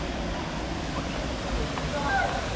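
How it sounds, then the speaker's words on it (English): Steady broadband roar of a waterfall on the Elidir Trail in the Brecon Beacons, close and constant throughout, with wind buffeting the microphone. "I think the sound is just going to be of this waterfall the whole time I'm here though"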